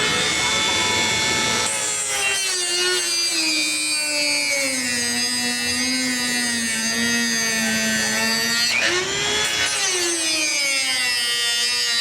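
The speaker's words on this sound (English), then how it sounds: "we have to use brute force and get out the goddamn Dremel" A Dremel rotary tool grinds into a stuck screw on a Brinkmann grill, a loud continuous high whine that shifts pitch as the bit bites and eases, with a short dip near the end before the cutting resumes.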